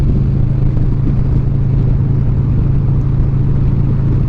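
A motorcycle cruising at speed on a road trip in Mexico, a steady loud engine drone mixed with constant wind rumble, no talk.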